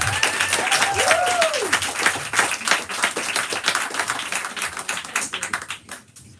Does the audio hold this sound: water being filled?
no